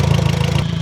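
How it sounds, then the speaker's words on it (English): An Audi MK1 TT engine idles roughly, a loud, close, low pulsing throb with an uneven, lumpy beat running throughout. "It's starting to idle a little funny."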